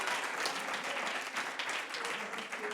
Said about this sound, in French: Can we give a round of applause for the communion that was shared today?